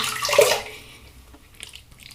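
Running water rinses lavender shaving soap off, a brief close splash and gush of water that quickly fades, followed by a few light drips and rustles.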